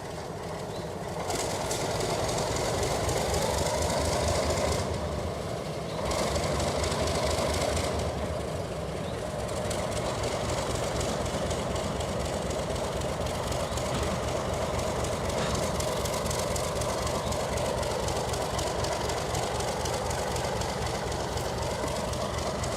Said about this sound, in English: The train will make a reverse move down the main to the yard.